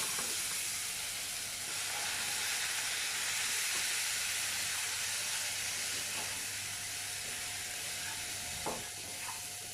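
Water poured into a hot pan with chili powder and spices for a drumstick kootu sets off a steady, close sizzle and hiss with faint stirring clicks, no talking.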